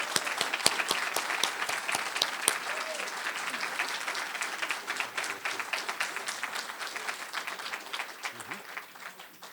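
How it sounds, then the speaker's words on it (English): An audience at a congressional candidate forum claps for the candidates. The applause is steady and moderately close and slowly fades toward the end. "Let's give them a round of applause."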